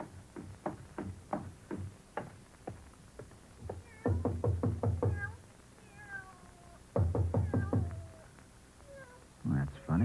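A cat in an old-time radio drama meows repeatedly in quick bursts, some loud and clustered, others softer and drawn out, at a moderate distance.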